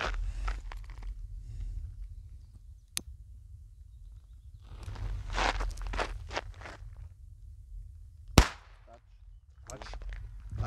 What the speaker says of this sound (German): Die watschen mehr als sie knallen, aber nicht weiter schlimm.